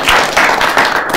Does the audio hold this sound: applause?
yes